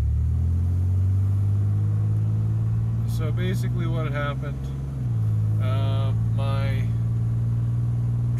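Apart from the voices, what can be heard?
truck engine running rough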